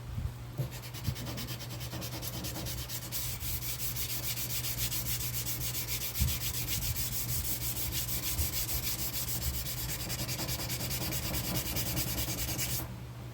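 A firearm surface is block sanded by hand to smooth out pits, a steady rhythmic abrasive rubbing that continues close and even throughout, with a low constant hum beneath and no talk.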